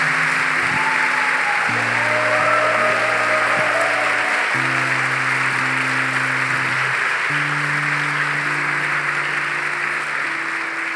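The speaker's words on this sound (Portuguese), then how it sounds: "Vamos dar uma salva de palmas à Virgem Santíssima." Clapping from a church congregation honouring the Virgin Mary, a steady broad wash of applause under sustained organ or keyboard chords, with no speech on top.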